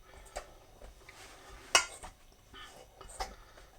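Potato being gently tumbled into a cheese filling in a bowl for a cheese and onion picnic pie, giving soft scraping and a few light clinks of utensil on the bowl, fairly quiet and close.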